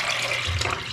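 Water poured into a pot for haleem, a brief continuous splashing pour, loud and close, with no talking.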